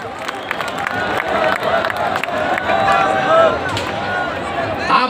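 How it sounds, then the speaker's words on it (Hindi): Audience at a Hindi humour poetry gathering at a Diwali fair applauds and cheers loudly and steadily to welcome guests, a dense crowd sound with scattered shouts throughout. "जरा जोरदार तालियों के साथ हमारे इन दोनों अतिथियों का"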